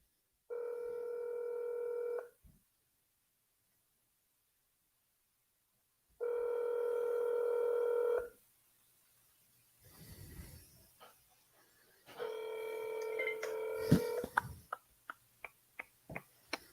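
Telephone dialing and ringing on an outgoing cold call: two long ringback tones with a silent gap, then a short muffled rustle and a third ring that ends in a run of sharp, evenly spaced clicks.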